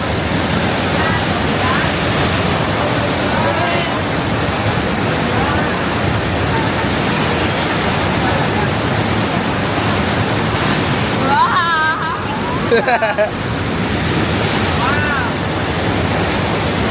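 Steady, loud broadband rush of water roaring at Rhine Falls, Switzerland, constant throughout, with a few brief voices cutting in near the end.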